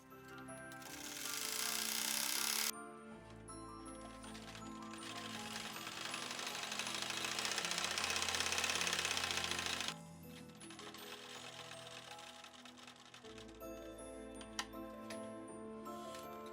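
Sewing machine stitching darts on a Victorian mourning dress bodice, a loud continuous mechanical whirr in several long runs with short pauses between, close and alone.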